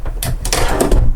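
A decent-sized cabinet drawer in the bathroom of a Tiffin Phaeton 40 IH motorhome slides open or shut, giving a short close wooden rumble with a couple of soft knocks over low room hum.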